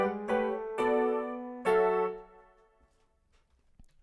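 Three piano chords in the middle register in a studio, struck one after another with sustained ringing tones that fade out after the last one.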